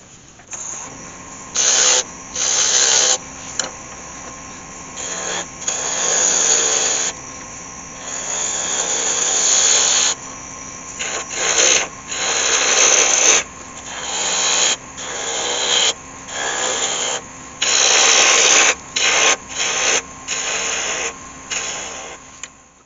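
Green cherry wood spindle turning on a wood lathe, a steady rasping, scraping cut that starts and stops in frequent bursts with short pauses between passes, close and fairly loud, with no talking.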